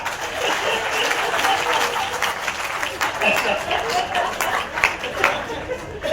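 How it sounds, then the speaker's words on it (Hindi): Sustained audience applause at a Hindi poetry event in Indore, a steady wash of clapping from a large crowd filling the whole stretch at moderate loudness, with faint chatter underneath. "तालियां कमजोर है।"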